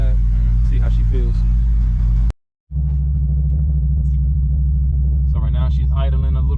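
A Ford V6 Mustang fitted with a BBK 73mm throttle body idles roughly and unevenly, with a loud, deep, steady rumble close by. The engine cuts out briefly partway through, then resumes, and a voice can be heard faintly underneath.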